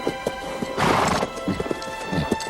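A voice imitates a Braveheart-style horse charge, a short burst of galloping clip-clop and a whinny blended into one loud noisy rush, standing alone with no talk over it.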